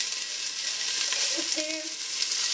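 Chopped onions going into hot oil for a shrimp creole, giving a steady, close sizzle and crackle that holds evenly throughout, with no talking.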